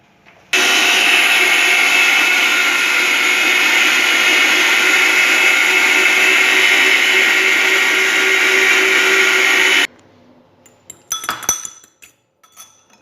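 An electric meat grinder minces beef with spices, a loud steady whirring drone that runs for about nine seconds and then cuts off, followed by a few clinks and knocks of metal parts.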